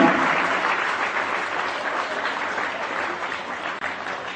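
An audience at a school ceremony honouring class 12 toppers claps steadily for several seconds, a dense, even applause at moderate distance.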